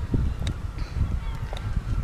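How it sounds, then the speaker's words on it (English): Seagulls cry by the sea in Folkestone on a calm early morning, a few short, fairly distant calls scattered over a low rumble of breeze and ambience. "you can hear the cries of the seagulls"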